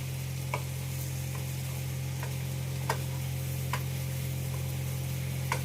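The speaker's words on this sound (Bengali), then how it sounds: "এখন আলু কষাচ্ছি মশলা দিয়ে" Potatoes fry with spices in a pan, giving a steady, even sizzle with a few sharp clinks of a stirring spoon every second or so. No one speaks.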